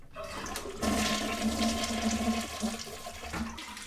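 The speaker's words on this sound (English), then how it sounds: "Next, we jam the refill valve and flush." A dual flush toilet flushes with its refill valve jammed, a loud close rush of draining water that swells after a brief pause and runs on steadily with some gurgling.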